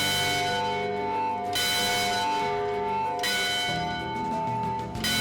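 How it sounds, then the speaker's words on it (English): A large historic school bell rings with a rich, sustained metallic tone, strokes recurring every second or so and each ringing out into a long humming decay. "So when they heard this bell ringing, they knew it was time"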